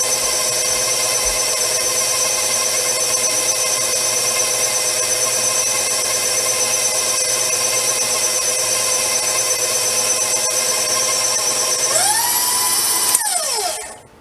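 An electric mixer whirs steadily while beating gluten-free vegan bread dough, a constant high-pitched motor whine lasting over ten seconds before winding down and cutting off at the end.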